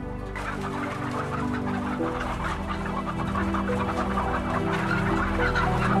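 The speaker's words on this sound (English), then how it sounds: "For hens, they live in a laying warehouse, crammed inside so-called battery cages." Many hens in battery cages inside a laying warehouse cluck together in a dense, continuous chorus, with a steady mechanical hum underneath.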